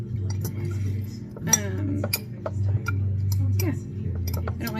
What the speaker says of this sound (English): Kind of break up these bigger chunks of the almond flour. I always just use a fork.